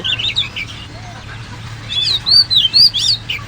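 Birds call around a rooftop garden where doves visit, bright chirps and tweets coming in short bursts that grow louder and busier in the second half over a low steady hum.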